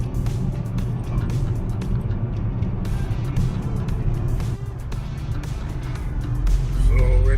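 A car drives along a road, its engine and tyre rumble steady and close inside the cabin, with some louder bumps near the end; faint voices are heard under the motor noise.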